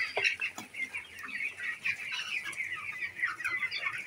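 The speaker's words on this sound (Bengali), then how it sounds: "মুরগি" Chickens cluck repeatedly at a poultry farm, a busy overlapping chorus of birds close by with no talk.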